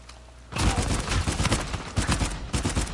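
Halo gunfire starts abruptly and keeps going as a loud rapid burst of shots, a dense close fusillade with brief lulls, alone.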